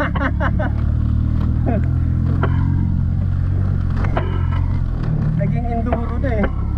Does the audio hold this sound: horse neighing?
no